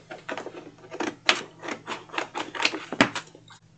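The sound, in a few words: scissors cutting out a craft piece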